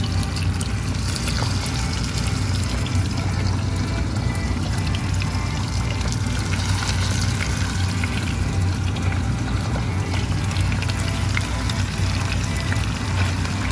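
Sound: chicken wings frying in oil

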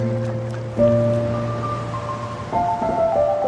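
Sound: ocean waves at the seaside

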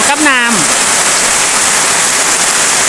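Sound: rain falling, first rain of the year

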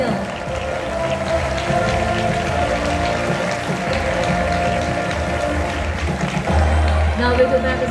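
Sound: audience applause for the prize winner

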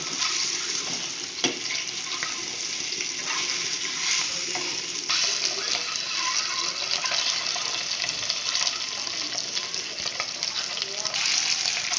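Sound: frying in sunflower oil for egg curry

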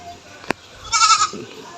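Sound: goat bleating

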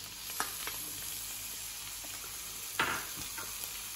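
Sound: sautéing capsicum with ginger and garlic in a pan

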